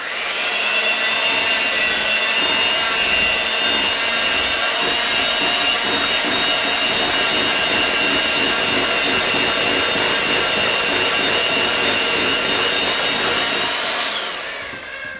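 A handheld electric mixer whirs steadily and loudly, beating cake batter with buttermilk for a chocolate cinnamon cake, with a high motor whine that runs unbroken for about fourteen seconds before cutting off.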